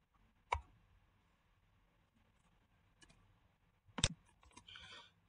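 Scattered keystrokes on a computer keyboard during setup of a Check Point Gaia OS gateway: a few isolated sharp clicks with pauses between and a short cluster near the end, quiet and close.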